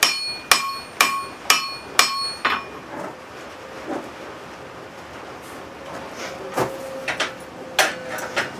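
Hammer blows ringing on an anvil while forging a railroad spike hatchet head, five evenly spaced bright strikes up front, then scattered lighter taps and clinks, close and loud with no talking.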